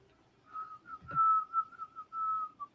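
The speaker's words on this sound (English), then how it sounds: "You're giving it away. What do you mean? You're just whistling it." A person whistles a short tune alone, clear and fairly close, with a brief low thump partway through.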